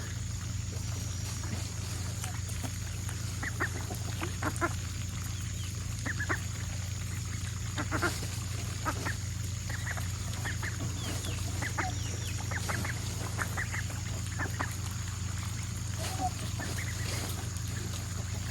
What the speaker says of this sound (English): Zuma is a golden-laced Wyandotte.